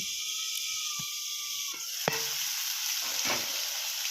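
Potatoes frying in a pan for a tapse mustard dish, a steady close sizzle running throughout, with a tonal metallic squeak early on and a couple of sharp scraping stirs.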